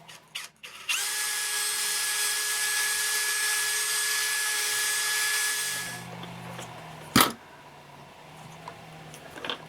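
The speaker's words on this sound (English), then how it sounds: "I am going to have to drill out the bore here" Power drill boring out a small bore on a sonic robot project, a loud high whine starting after a click and held steadily for about five seconds, then winding down, followed by a sharp clatter.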